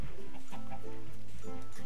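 Blocky-world game chickens in Minecraft cluck in short, irregular bursts over steady game background noise, moderately close.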